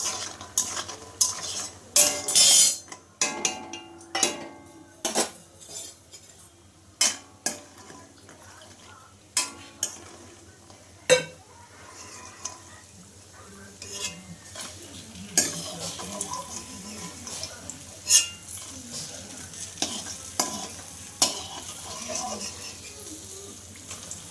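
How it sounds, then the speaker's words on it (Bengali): Lentil dumplings (bori) being fried in a pan until reddish, with a soft background sizzle broken by repeated sharp clinks and scrapes of a utensil stirring against the pan. "বড়িগুলো কিন্তু আমি একটু লাল লাল করে ভেজে নিলাম"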